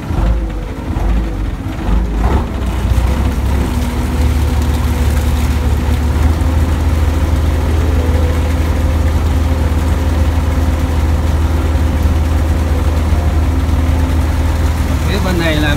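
A boat's engine on a river vessel, started and running with a steady, loud low rumble that holds evenly throughout after some brief clatter at the start.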